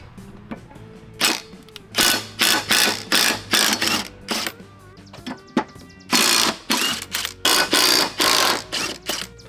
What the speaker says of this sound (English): But if you have an impact, it'll come right off.